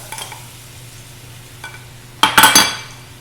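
Butter and flour stirred briskly in a hot pan, a soft sizzle running underneath and a burst of scraping, clinking utensil strokes near the end, close and fairly loud.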